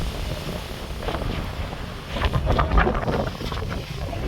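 Strong sea wind at Banshbaria beach buffets the microphone in a continuous roar, with gusts swelling louder partway through and surf noise mixed in.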